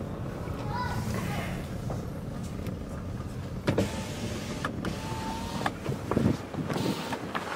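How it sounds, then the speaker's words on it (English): A car's power window motor whirs shut from inside the vehicle on a narrow, dusty dirt road in Anhui province, a steady electric drone under road rumble and some speech. "I'm gonna close the window."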